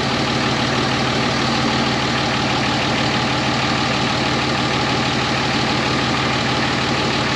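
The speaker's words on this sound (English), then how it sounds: "this truck sounds good" A truck engine idles steadily throughout, a continuous low rumbling drone with a faint knocking texture and no talk over it.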